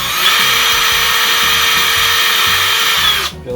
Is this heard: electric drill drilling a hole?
yes